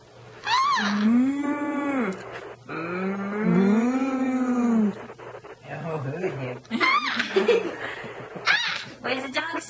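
A voice imitates a cow with two long, drawn-out moos, followed by laughter and chatter.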